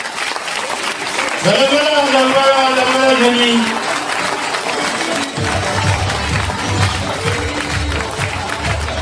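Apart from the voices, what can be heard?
audience applause at a fashion show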